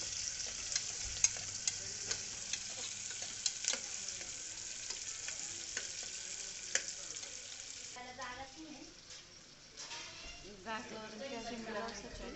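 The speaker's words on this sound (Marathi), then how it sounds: "फ्राय करून घ्यायचं आहे त्याला छान असा गुलाबी होईपर्यंत परतून घ्यायचा आहे" Sliced onions frying in oil and being stirred until pink, a soft sizzle with sharp clicks of a spoon against the pan, then someone talks over the frying toward the end.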